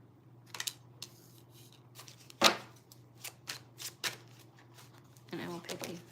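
Tarot cards are drawn from a deck, giving soft, quiet flicks and slides, one sharper snap and a brief shuffling burst near the end, with a steady low hum underneath.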